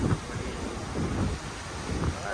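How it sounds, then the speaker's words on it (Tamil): Wind at a Chennai beach at sunrise buffets the microphone as a steady rough roar with gusty swells throughout. "காற்று நல்லா வேற மாதிரி இருக்குது"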